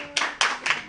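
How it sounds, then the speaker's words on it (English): A few separate hand claps at a business chamber event, four sharp claps spaced about a quarter second apart, close and fairly quiet, with no talk over them. "Give her a round of applause."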